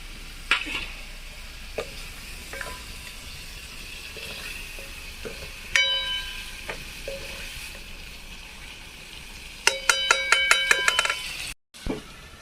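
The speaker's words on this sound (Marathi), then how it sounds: "आता सोले टाकून घेते मी याच्यामध्ये" Green pigeon peas are tipped into a hot pan, setting off a low sizzle with scattered clinks and scrapes, then a quick burst of rattling metallic strikes near the end as they are stirred.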